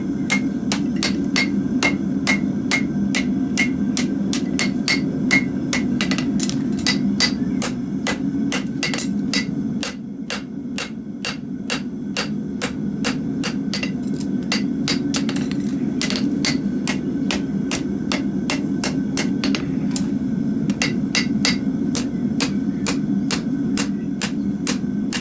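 Iron being forge welded under steady, rapid hammer blows, a loud continuous ringing rhythm of metal strikes with a brief pause midway before the pounding resumes.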